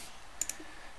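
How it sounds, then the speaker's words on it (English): Two quick, light clicks of computer keys pressed for copy and paste shortcuts, close and sharp against a quiet background hiss. "Control C to copy, Control V to paste"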